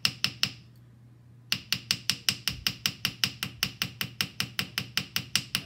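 A small hammer strikes a copper sheet held flat to texture a leaf shape, sharp metallic taps in a fast steady rhythm, a brief pause after the first few blows, then a long run of even strikes close up.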